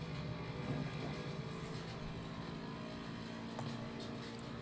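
A race car in a racing video game drives flat out down the main straight at Bathurst, a steady, muffled engine drone holding a constant pitch, moderately quiet and without talk.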